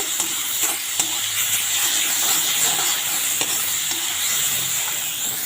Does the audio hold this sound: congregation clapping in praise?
no